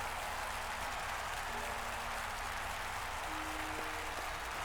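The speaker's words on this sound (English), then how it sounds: "the pair left the stage, to the sound of thundering applause" A crowd in Octopath Traveler II applauds after a dance performance, a steady wash of clapping that holds evenly throughout at moderate loudness, with faint tonal notes underneath and no talking.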